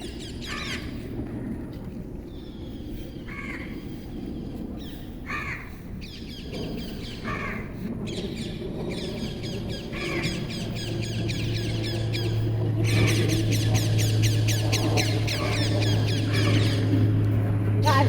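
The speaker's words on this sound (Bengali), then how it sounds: "পাখির শব্দ কিচিমিচি শব্দ" Many birds chirp and caw together in a busy, continuous chorus over a low steady hum that grows louder toward the end.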